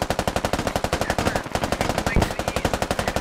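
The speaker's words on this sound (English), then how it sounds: "Summers with the AR puts a bullet twice into Aitken" Rapid, regular automatic AR rifle fire in the military shooter SquadOps, a close, loud string of evenly spaced shots with a few heavier impacts, and no talking over it.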